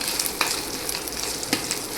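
Garlic, ginger and peanuts roasting in a pan for Maharashtrian thecha, a dense, even sizzle broken by occasional stirring clatters, close and steady without talk.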